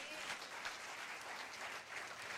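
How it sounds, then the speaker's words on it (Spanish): A church congregation applauds during a Spanish-language worship service, giving a continuous, even wash of clapping that stays faint and distant for a couple of seconds. "Vamos, dale un aplauso al Señor."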